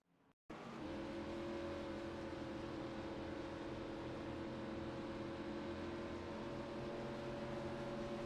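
A race car engine in a racing video game, heard from an outside view after a brief pause, drones loudly and steadily at high revs with constant tonal harmonics for the whole stretch.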